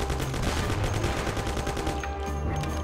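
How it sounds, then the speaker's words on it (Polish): Gunfire aimed at the player in the video game Mafia: a dense, continuous volley of rapid shots that runs loud and unbroken throughout, with no talking. "Kto we mnie strzela?"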